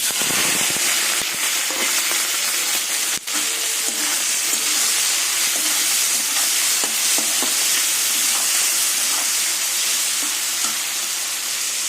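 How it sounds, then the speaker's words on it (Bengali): Shrimp seasoned with salt and turmeric frying in hot oil in a pan, a dense, continuous sizzle and crackle, close and loud for the whole stretch. "এবার চিংড়ি মাছটা তেলে ভেজে নেবো"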